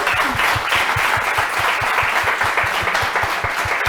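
Sustained crowd applause, dense and steady throughout, from a large audience in a room after a talk.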